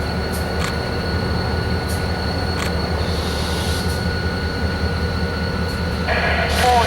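Freight cars of a Housatonic Railroad train roll along the track with a loud, steady rumble, metallic clicks and a brief wheel squeal toward the end, heard up close.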